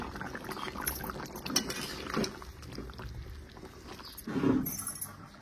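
Chicken simmers in a pot with a low bubbling sizzle, broken by occasional clinks of a utensil against metal and a louder stir near the end, close by in a home kitchen.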